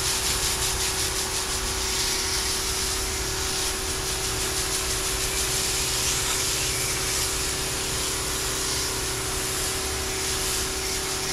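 A Port-A-Blaster sprays to wash dirt from condenser coils, making a steady, close, unbroken hiss of spray over a constant mechanical hum for the whole stretch.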